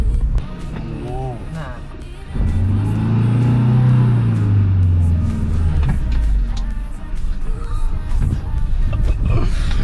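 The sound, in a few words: car driving down a narrow steep road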